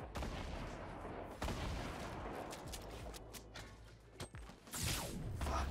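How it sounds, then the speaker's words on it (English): Gunfire in the Fortnite video game, rapid bursts of shots and sharp cracks layered over a dense, continuous din, with a louder flurry near the end. "They're shooting at us."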